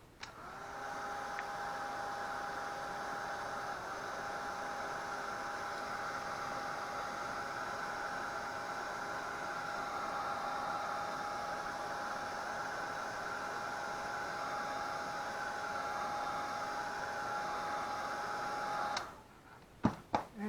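Hair dryer blowing steadily on a watercolor painting of a bearded iris, a continuous close whooshing drone with a faint motor whine that runs unbroken for about nineteen seconds before clicking off.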